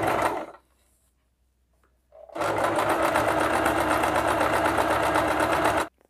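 A sewing machine stitches along folded piping cloth: a brief burst of stitching, a quiet pause, then a steady rapid mechanical chatter running for several seconds before stopping, close and loud with no voices.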